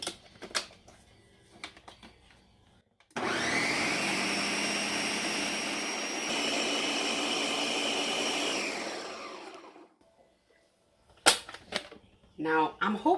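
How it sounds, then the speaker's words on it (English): A kitchen blender whirs steadily for about six seconds while blending chicken broth for caldo tlalpeño soup, loud and continuous, then stops, with faint clatter and a voice before and after. "And I'm going to blend it."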